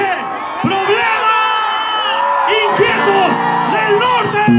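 A loud, close crowd at a Los Inquietos del Norte norteño show shouts, whoops and yells continuously, with several voices rising and falling in overlapping bursts.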